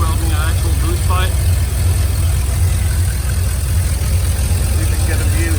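A turbocharged 2001 Chevrolet Silverado with a 5.3 engine and a blow-off valve idles steadily nearby, its low engine drone continuous while faint chirps and whooshes rise above it.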